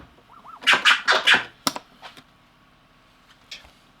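A DJ scratches a record through Serato Scratch Live, giving a quick run of four loud, rasping scratch strokes, then a sharp stab and a few fainter scratches spread out toward the end.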